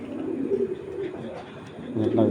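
A female racing pigeon gives low, throaty coos in a few soft, repeated phrases, close by and fairly quiet, with a fuller burst of cooing at the end.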